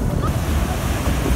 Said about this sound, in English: The waves have been pretty rough the last couple days.